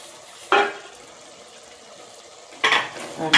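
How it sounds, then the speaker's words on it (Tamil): A masher works cooked dal and softened tomato in a pot. Two distinct bursts of wet clanking and squelching stand out above a quiet background, the second longer and broken into a few quick strokes. "நான் பருப்பளவை போட்டு இப்போ கடைஞ்சி எடுத்துகிட்டு வந்து உங்கள்கிட்ட காட்டுறேன்"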